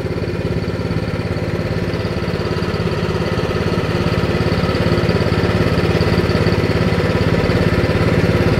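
A 2000 hp Corvette Z06 street car engine runs at a steady rough idle, loud and close with a constant pulsing drone and no talk.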